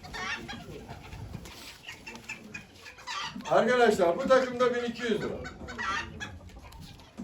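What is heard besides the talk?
porcelain leghorn chickens clucking at poultry auction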